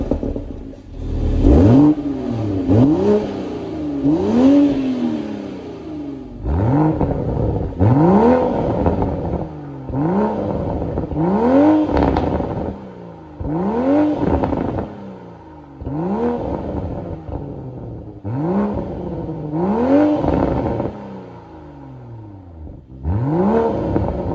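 A 2022 Toyota Supra GR engine revs hard again and again, each blip rising and falling in a steady rhythm of loud, close roars with no voices over it.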